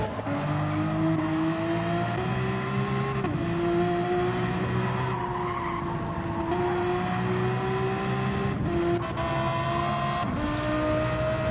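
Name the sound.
race car accelerating in a racing video game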